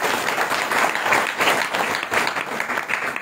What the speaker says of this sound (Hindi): ताली बजाओ सबके सब।